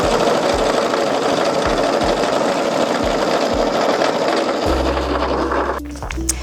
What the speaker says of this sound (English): Now I'm going to follow the edge of the foot to the old stitch line.